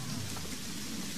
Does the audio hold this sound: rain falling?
yes